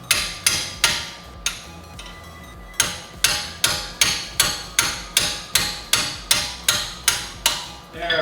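A hammer repeatedly strikes a wrench on a bolt during brake and suspension work on a Mercedes S-Class, a close, loud series of about fifteen sharp metallic whacks in a steady rhythm after a brief pause.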